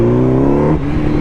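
A motorcycle engine braking on the road, a loud, close mechanical drone with strong harmonics that drops in pitch partway through as the bike slows and coasts.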